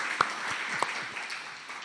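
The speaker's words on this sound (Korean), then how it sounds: "환영합니다. 우리 박수로." A church congregation at a Sunday worship service claps in welcome, a brief burst of scattered, fairly soft clapping with a few sharper individual claps.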